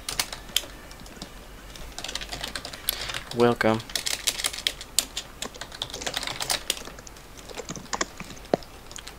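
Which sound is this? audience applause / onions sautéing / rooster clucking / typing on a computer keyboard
typing on a computer keyboard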